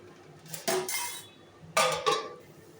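A metal lid set onto a cooking pot of chana dal with papaya, pointed gourd and potato, two close clattering clinks about a second apart, each ringing briefly before fading.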